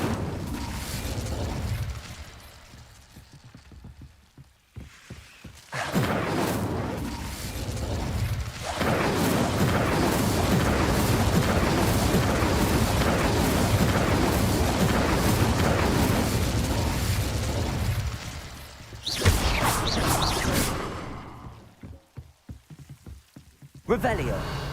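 Incendio fire spell cast in Hogwarts Legacy, a loud, sustained whooshing roar of flame lasting over ten seconds between quieter moments, with a voice speaking around it.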